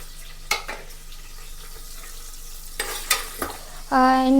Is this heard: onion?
yes